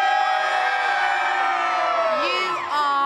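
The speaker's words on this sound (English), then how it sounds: "Give us a cheer if you're a fundraiser this year." A crowd of fundraisers at a Children in Need charity event in York cheers and whoops loudly and continuously, a dense wash of voices with rising shouts near the end.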